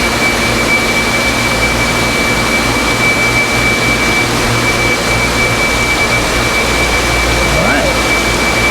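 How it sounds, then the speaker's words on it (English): A rack air blower in a warm tropical plant warehouse runs with a steady, loud, continuous whoosh and a constant tonal whine, unbroken throughout. "each rack has its own blower"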